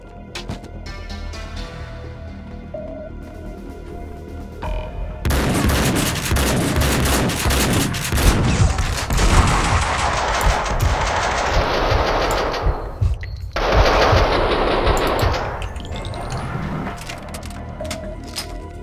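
Rapid bursts of gunfire from Max Payne 2, dense and loud for most of the stretch after a quieter opening, with a brief gap before another heavy volley of shots.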